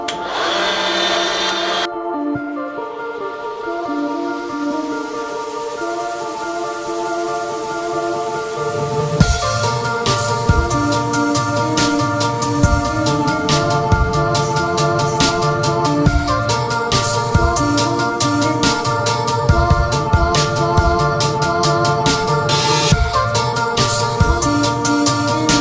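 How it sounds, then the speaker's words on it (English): A Lennox bimetal hole saw in a drill press cuts bike frame tubing clamped in a tube notcher, starting with a high whine that drops into steady loud grinding and chattering as the teeth bite. "this here is just a Lennox bimetal hole saw"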